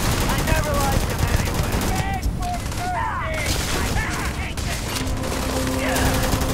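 Rapid gunfire from an 11 millimeter gun in the Starfield video game, dense bursts running throughout amid game effects and background voices.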